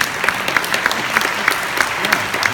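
A small audience at a piano masterclass breaks into applause, a brief burst of evenly paced, close claps with no voices over it.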